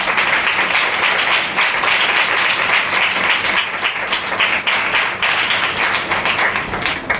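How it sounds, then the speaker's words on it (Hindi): A congregation at a spiritual assembly claps loudly in welcome, a thick continuous burst of hand claps at steady volume, slightly ragged in texture, with no speech over it. "हम जोरदार ताली से उनका स्वागत करें"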